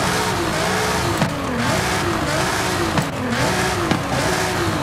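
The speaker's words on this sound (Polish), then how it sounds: "Nie zmienia się dźwięk samochodu po instalacji wydechu." A Nissan GT-R Nismo R35 engine in the video game Forza Horizon 5 drones steadily with rising and falling revs, a continuous synthetic-sounding roar with no voices.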